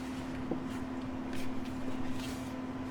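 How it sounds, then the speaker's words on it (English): A steady low hum from an air conditioning unit drones on throughout, with faint background noise and no talking. "I do apologize for the noise of my air conditioning unit running right now."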